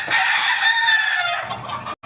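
A rooster crows loudly and close by, one long drawn-out call lasting nearly two seconds.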